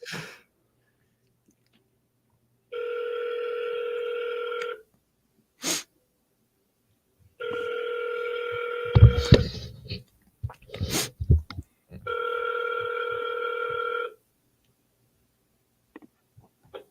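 An outgoing telephone call rings three times, each long steady ringback tone lasting about two seconds with gaps between, with brief clicks, breaths and handling noises in the pauses.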